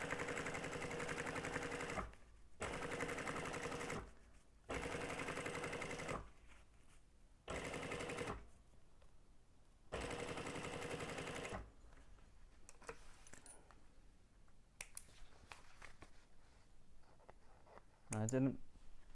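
Sewing machine stitching fabric panels for a bicycle frame bag, running in bursts of a few seconds each separated by brief pauses, then quieter handling and clicks afterward.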